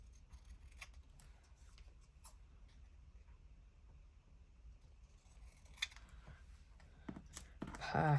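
Scissors cutting paper during a craft session, a faint series of soft snips and rustles at close range, quiet overall with slightly louder handling noises toward the end.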